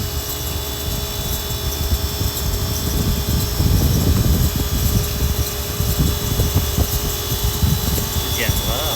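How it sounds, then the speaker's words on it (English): A walk-in cooler refrigeration system under repair pumps down, producing a steady, loud mechanical hum with a fluttering compressor rumble and constant tonal whine, growing slightly rougher midway. "Here it is, it's pumping down."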